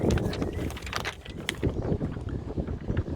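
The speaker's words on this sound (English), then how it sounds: "a bit windy today, sorry" Gusty wind buffets the microphone in a Manchester cemetery with a constant rumbling roar and uneven bursts throughout.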